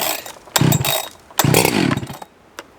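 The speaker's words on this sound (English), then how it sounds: "I do like to give it a couple pre-pulls just to get some gas flowing through that carb." A ported Jonsered chainsaw is pulled over twice, each pull sputtering into a short, loud rasp of the engine before dying away, followed by one brief knock, with no talking.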